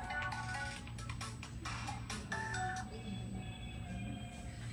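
A mobile phone rings in a church congregation. A faint, repeated tonal ringtone with short rhythmic bursts plays through the first few seconds over a quiet hum of the room.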